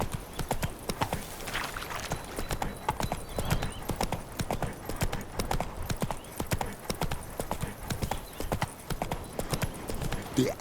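Roach the horse trots along in The Witcher 3, a steady stream of clip-clop hoofbeats that continues loud and close, with a brief whinny and a few spoken words over it.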